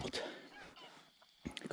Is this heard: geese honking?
yes